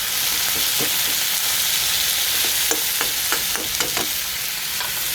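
Onion and tomato sautéing in a pan for ampalaya with egg: a steady sizzle of frying with intermittent stirring scrapes and clinks of a utensil against the pan, close and fairly even throughout.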